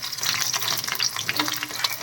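Onions fry in a pan for tempering, giving a continuous crackling sizzle with small pops and stirring sounds, close and even.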